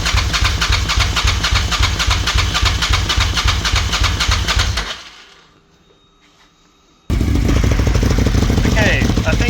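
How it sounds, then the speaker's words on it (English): A loud Suzuki TL1000R motorcycle engine runs roughly after fuel system work, cuts out into near silence for about two seconds, then starts up again and revs strongly. "let's get the engine running again and see if that's helped."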